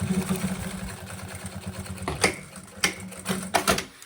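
A sewing machine runs steadily while stitching the fabric of a maternity bag, a close, continuous hum for about two seconds before it stops, followed by a few sharp handling clicks and knocks.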